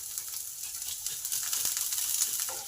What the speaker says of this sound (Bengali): লঙ্কার এই জিরেটাকে একটু ভালো করে ভেজে নেব।